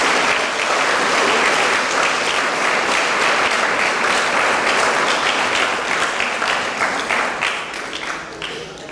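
A church congregation claps together in dense, sustained applause that fills the room, holding strong before easing off slightly near the end.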